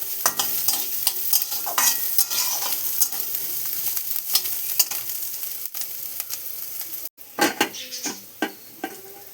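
Onions and green chillies fry in a pan for a lunchtime home-cooked meal, with a steady close sizzle broken by repeated sharp stirring scrapes and clinks of a utensil against the pan, and a brief pause near the end.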